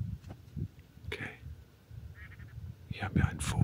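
Outdoors in South Africa, a bird gives a few faint, scattered calls against low rumbling background noise, with a short harsher call near the end.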